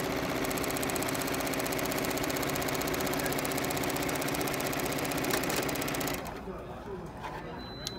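Janome Continental M7 Professional sewing machine running steadily under foot-pedal control, a close, continuous mechanical whir with fine rapid stitching rhythm that cuts out near the end, leaving quieter room sound.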